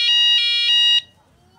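A hi-lo siren tone on a police motorcycle rings out loud and close. A bright electronic tone pulses about three times a second for roughly a second, then stops abruptly.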